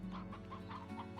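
Chickens in the video game Slime Rancher cluck in a steady run of short, close calls over a constant hum, with no voices.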